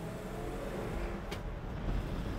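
A 1961 Ford F100 pickup engine drones steadily as the truck drives on the road and works through its gears, heard from inside the cab as a continuous loud rumble mixed with road noise.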